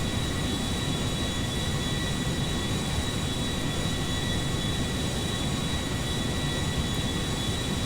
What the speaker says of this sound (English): Okay, here we are taking off.